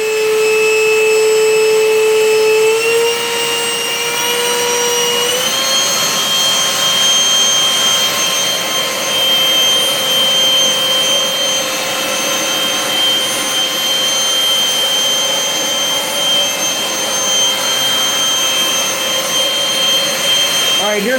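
An air-knife thruster held at full throttle gives a loud, steady jet-like roar with a high whine that rises in pitch early on, then holds constant and close throughout.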